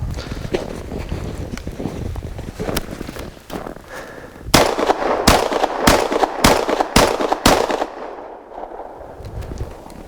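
Panzer Arms M4 semi-automatic shotgun firing a quick string of six loud, sharp blasts outdoors, evenly spaced over a few seconds after some quieter handling and background noise.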